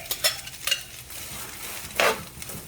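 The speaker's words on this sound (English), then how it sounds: "Now that the oil is nice and hot, I'm going to apply the cabbage. Then we're going to fry and turn the heat up a little bit." Cabbage sautés in hot oil while a utensil stirs it, a soft sizzle under a few quick scraping strokes and one brief louder hiss near the end.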